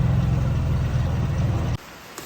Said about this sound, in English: Oh, it's raining, but roof still works.